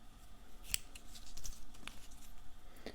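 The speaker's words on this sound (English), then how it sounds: "I've not got the right scissors for this" Scissors snipping the edges of fabric while sewing a shower cap: a few quiet, sharp crisp cuts spaced apart, close by, with no talk over them.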